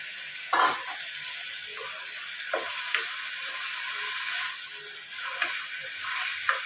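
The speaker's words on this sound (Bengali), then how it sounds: "গোবিন্দভোগ চালটা দিয়ে দিলাম। এবার এটা একটুখানি সটে করবো আমি।" Gobindobhog rice sautés in a hot pan for vegetable khichdi, with a constant bright sizzle and occasional soft stirring scrapes and taps, close and steady with no talking.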